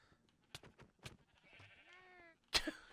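A sheep in a video game gives a short wavering bleat, faint amid scattered clicks and taps, followed by a sharp louder hit at the end.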